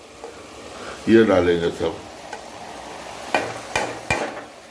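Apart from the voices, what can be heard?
spices frying and being stirred in a pan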